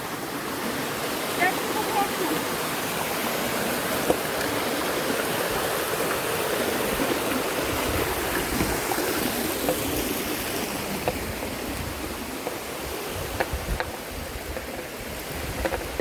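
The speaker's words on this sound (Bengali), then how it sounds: "কাঙ্ক্ষিত ঝর্ণা" Steady rushing water roars throughout, a dense broadband wash like a waterfall close by, with no clear speech over it.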